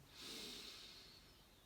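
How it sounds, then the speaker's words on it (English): A slow, deep inhalation through the nose during a guided breathing exercise, a soft airy rush that swells and gradually tapers over about a second and a half, quiet and close with no talking. "Breathing in"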